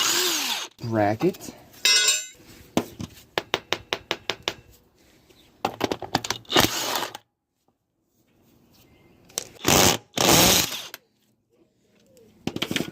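Impact wrench rattling on power steering pump parts of a Blazer, several short bursts of rapid hammering with pauses between, close and loud, with someone talking briefly in between.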